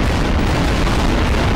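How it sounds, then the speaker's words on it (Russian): A dense, loud rumbling blast roars continuously for over a second, a heavy nuclear bomb explosion in Garry's Mod with thick low-end energy. "Ядерная бомба взорвется."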